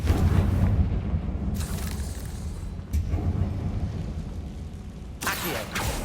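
A Confringo fire-blast spell in Hogwarts Legacy erupts in a loud, rumbling boom up close, followed by a couple of sharper bursts over a dense low roar.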